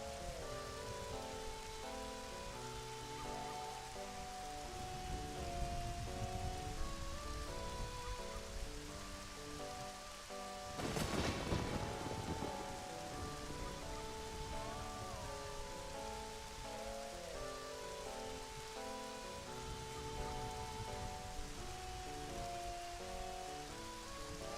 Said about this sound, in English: I'm going to let you guys listen to the rain for a second